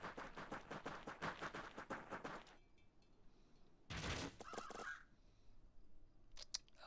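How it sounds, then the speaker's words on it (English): Crows cawing in the Fantasy General II fantasy strategy game, a dense run of harsh rhythmic caws up close, then a quiet gap, a second loud burst and a few scattered sharp calls at the end. "Oh, we've got some crows."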